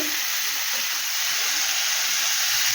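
Water poured into a hot pan of prawn curry makes a loud, steady hiss and sizzle that fills the whole moment without letting up, with no voices over it.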